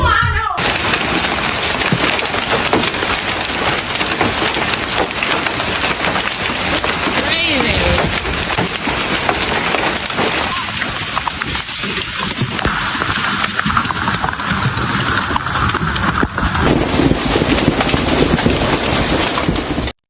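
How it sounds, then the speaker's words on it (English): Baseball-sized hailstones pound relentlessly against surfaces during a severe Illinois and Missouri hailstorm, a dense, loud, continuous clattering roar mixed with wind and rain. "you could hear pieces of hail slamming against everything around us"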